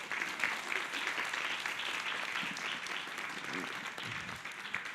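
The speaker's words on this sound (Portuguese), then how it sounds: "Quem aplaudiu foi a Luciana." Applause from an audience at a talk after a documentary screening about a rescued child, dense steady clapping filling the whole stretch with faint voices mixed in.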